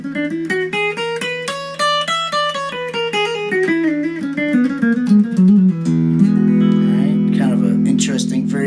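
Electric or acoustic guitar runs through an E Mixolydian scale with a raised fourth, single plucked notes climbing then descending in a steady even rhythm, before settling into a sustained ringing chord, clear and alone.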